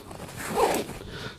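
A zipper on the admin pouch of a bug out bag is pulled in one short, close rasping run that swells and fades within about a second, with no talk over it.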